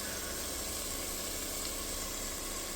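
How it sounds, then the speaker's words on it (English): Noodles sizzle and fry in a hot pan, a steady, faint hiss that holds unchanged from start to finish with no voices over it. "it's already been 1 minute and you start seeing sizzling."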